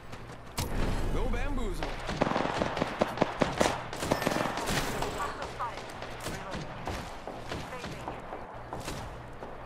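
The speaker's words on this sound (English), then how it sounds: "Someone's got a shot on me, pretty sure. Getting shot at." Video game gunfire, with repeated sharp shots and rapid bursts, some close and loud and others more distant, mixed with thuds and game effects while a person talks briefly.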